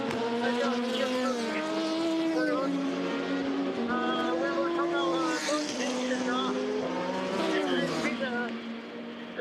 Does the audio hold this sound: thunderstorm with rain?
no